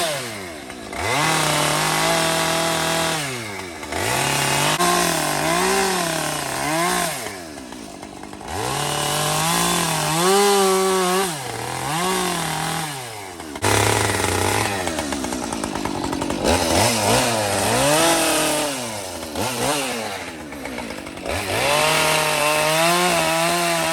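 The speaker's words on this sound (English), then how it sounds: "this is the kind of stuff that the guys with the chainsaws carve" Chainsaws carving wood sculptures of bears at the Big E fair in West Springfield, Massachusetts, engines revving up and down in long wavering bursts, loud and close, running continuously with brief dips between cuts.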